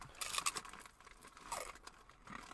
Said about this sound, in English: There was a double crunch.